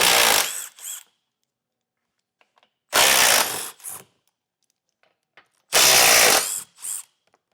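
Power tool spinning out 15mm skid plate bolts on a Bronco, three loud bursts of whirring and ratcheting, each about a second long with short follow-up blips, separated by silence.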